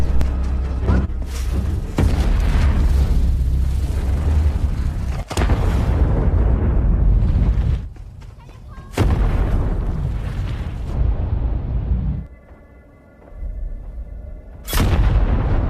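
A string of loud, booming landmine explosions with sharp onsets, separated by rumbling gaps, ending with one more sudden blast.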